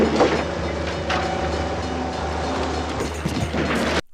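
A train rumbles past a road crossing in the action film The Annihilators, a loud continuous rolling roar with clattering wheels and clanks that stops abruptly at the end.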